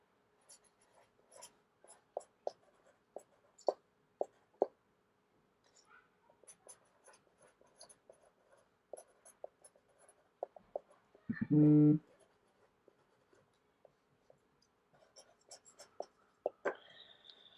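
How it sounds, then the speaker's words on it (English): A pen writes a petition on the back of a small magical seal, giving close, scratchy strokes in short bursts with pauses. A brief loud thump comes near the middle, and no one speaks. "Let me write what I want to achieve."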